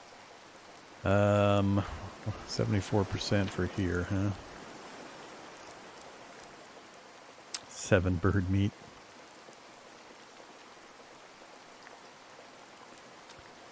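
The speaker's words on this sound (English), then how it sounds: "Raining again." Steady rain falls in the tropical island survival game Card Survival: Tropical Island, an even hiss running through the whole stretch while someone talks over it in two bursts.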